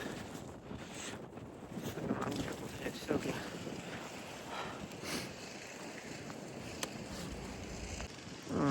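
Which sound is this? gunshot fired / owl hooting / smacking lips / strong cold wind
strong cold wind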